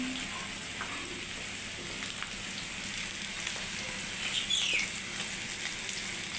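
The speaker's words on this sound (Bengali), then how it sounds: "মশলাটা নাড়াচাড়া করে নিই" Masala paste frying in a pan while being stirred, a soft steady sizzle with a few faint scrapes, fairly quiet throughout.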